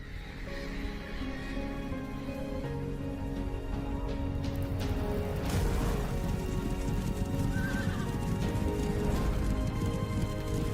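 Horses whinny and neigh over clip-clopping hooves in a cinematic trailer for the Horses 2025 video game, with a soft rain-like wash beneath, one prominent neigh standing out midway.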